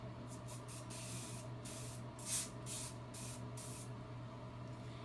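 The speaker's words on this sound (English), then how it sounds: "we're just going to do a couple of spritzes over these curls" Several quick spritzes of dry wax hair spray over curls hiss in short bursts, close up, over a steady low background hum.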